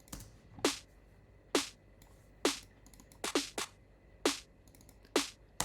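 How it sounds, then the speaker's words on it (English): A layered clap sample built from a snare and a clap for a house track, played alone as a sparse groovy pattern of sharp, bright hits with short tails, some doubled in quick pairs, close and clean. "we introduce the clap, which is a combination of 2 sounds."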